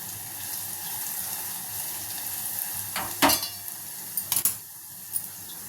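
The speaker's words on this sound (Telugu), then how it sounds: "ఒక 2 నిమిషాలు నూనెలో వేస్తా." Ground masala frying in hot oil for tomato rasam gives a steady, close sizzling hiss. A few sharp clinks and scrapes of stirring cut in near the end, and no one talks.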